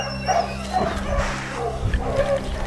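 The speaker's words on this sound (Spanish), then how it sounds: "Los perros seguían ladrando." Dogs bark and yip repeatedly in short bursts, fairly close, with some whining between barks over a low steady hum.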